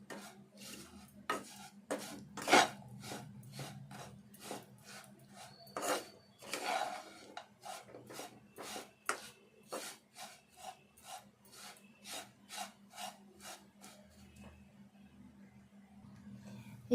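Carrot laddu mixture being stirred and roasted in a pan, a series of regular rasping scrapes from a spoon dragged across the pan, close and fairly quiet, tapering off toward the end.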